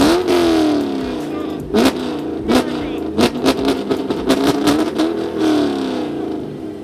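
A manual Ford Mustang GT S550 V8 is revved repeatedly, loud sharp bursts rising and falling in quick succession, with people talking and shouting nearby.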